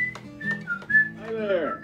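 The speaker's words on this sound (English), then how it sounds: "That could affect whistling." A person whistles a short run of clear, bright tones in a quiet indoor setting, ending in a few rising and falling slides, close and fairly loud with no other sounds.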